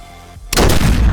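A single loud gunshot from a zoomed-in long-range rifle in the shooter game Contractors Showdown, an abrupt close blast with a long rolling tail after a brief quiet moment.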